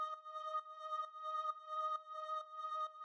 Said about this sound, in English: The next thing we have here is this little drone,